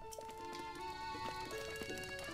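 Faint hoof clops of a horse walking step by step in The Legend of Zelda: Breath of the Wild, quiet beneath sustained tonal game music.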